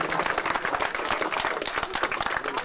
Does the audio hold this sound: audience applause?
yes